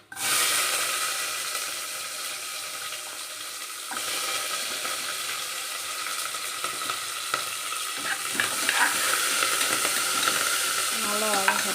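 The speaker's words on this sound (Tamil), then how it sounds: "நல்லா வதங்கட்டும். நல்லா வதங்குது." Onions sauté in a pan for tomato rice, a continuous close sizzle with occasional stirring scrapes and clinks, steady and fairly loud with no talking.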